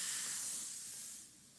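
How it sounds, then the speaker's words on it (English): An airbrush sprays paint through a cut stencil in one steady, close hiss that fades slightly toward the end, with no talking. "Let's get some spraying done."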